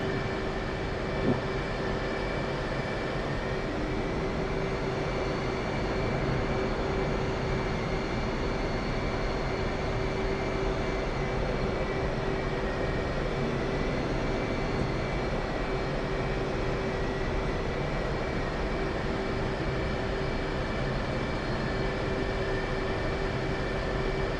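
A military jet in a flight simulator game taxis back to its shelter, a constant loud engine drone and whine with a steady tone, unbroken and without speech.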